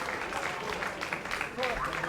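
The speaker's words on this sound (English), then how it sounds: "Big round of applause from the audience here" Audience applause at a grappling match, a steady wash of clapping running the full length beneath a commentator's voice.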